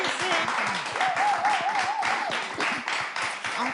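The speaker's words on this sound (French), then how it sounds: "Applaudissez" An audience applauds during a lively talk show, a dense, steady patter of clapping with a voice rising and falling above it partway through.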